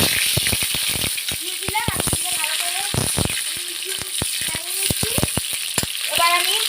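Chopped onion, green chili and potatoes sizzle in hot oil for a fish curry, with a steady loud fry broken by repeated sharp spatula scrapes and clanks against the pan, close up, under occasional talk.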